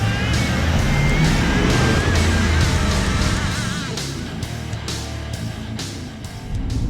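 A 2017 L5P Duramax truck roars at full throttle on a dyno, a loud sustained engine drone with rising whine that eases slightly partway through, heard close and without speech.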